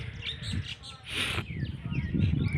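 Pigeons at a loft, soft cooing and chirps mixed with a brief flutter or rustle, moderately close over low background noise.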